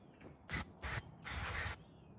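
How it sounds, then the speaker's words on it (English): Carburetor cleaner hisses out of an aerosol can into the carburetor of a Craftsman weedwhacker in three sharp close bursts, two short ones and then a longer spray, separated by quiet gaps. "Spray in from this end too."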